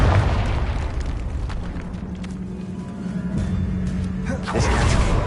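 A Confringo fire spell blasts in the Hogwarts Legacy game inside a decaying catacomb, with a heavy booming burst at the start and another swelling blast near the end around a rumbling middle.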